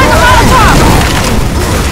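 A loud grenade blast in a shooting video game fills the clip with a heavy, booming rumble that stays dense and sustained, with crackling debris and faint voices mixed in under it.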